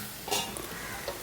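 Bitter gourd thoran stirred in a pan, a brief soft scrape and clatter over a low sizzle, close and quiet, lasting only a moment.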